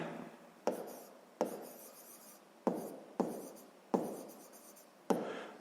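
A pen writes on paper during a sixth-grade math exercise, a series of quiet scratchy strokes with sharp starts, about seven in a row, close and alone.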